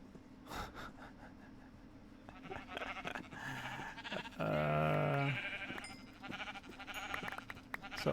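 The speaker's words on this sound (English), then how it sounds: "It's a sheep party and all the wool." A sheep in the modded Minecraft game Project Ozone lets out a loud, nasal bleat midway through. Quieter game noises and soft clicks run throughout.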